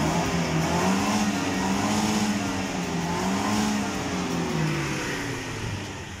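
A Mercedes-Benz engine revs hard and close by, a loud, rough, sustained roar that rises and falls in pitch over several seconds before easing off slightly at the end.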